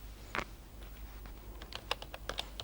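Keys tapped on a computer keyboard while entering text into a Microsoft Excel spreadsheet cell, heard as a sparse run of quiet, separate clicks that grow denser toward the end.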